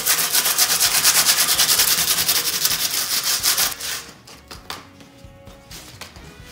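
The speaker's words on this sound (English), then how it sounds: "Now that the paint is dry, I'm gonna give it a quick little sand." Quick rhythmic strokes of sandpaper rubbing over a painted wooden Easter bunny craft, steady and close for a few seconds, then slowing into a few scattered scrapes.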